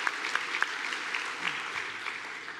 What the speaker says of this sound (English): let's give them our applause and let them know how proud we are of them